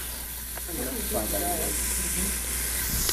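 Chopped onions with a pinch of salt sizzle and sweat in a hot pan while cooking piccata, a steady soft frying hiss under low background hum with faint stirring.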